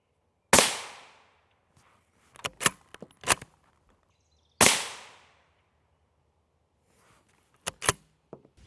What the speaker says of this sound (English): shoot at this plate to give it a little more of an advantage because it's not as beat up as the last one.